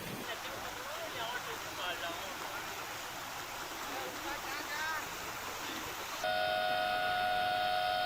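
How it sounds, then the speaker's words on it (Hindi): Heavy rushing water pours from an opened gate of the Kali Sindh dam, a dense continuous roar heard from a distance with a voice speaking over it. "काली सिंध नदी पर बने काली सिंध डैम का भी एक गेट खोलकर पानी की निकासी की जा रही है"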